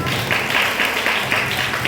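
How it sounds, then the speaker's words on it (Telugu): Clapping from a church audience at a vacation Bible school puppet show, a steady, dense patter of many hands sustained throughout with faint voices beneath. "క్లాప్స్ కొట్టండి మోసెస్ తాత"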